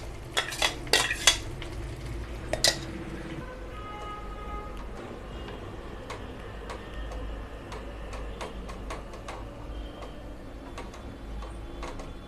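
A spoon stirs ground paste into simmering palak paneer gravy in a metal pan, with a few sharp clinks and scrapes early on, then soft, steady bubbling and light ticking taps near and moderately quiet.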